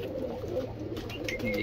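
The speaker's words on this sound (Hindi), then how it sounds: "लाल वाले कबूतर" Pigeons coo softly and repeatedly at a loft of high-flying pigeons in Surat, including red ones, with low murmuring calls close by and no talk.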